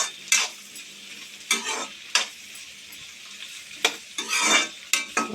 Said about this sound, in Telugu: ఇవన్నీ వేసి కొంచెం రెడ్డిష్ కలర్కి వచ్చేదాకా ఆనియన్ని వేసుకోవాలి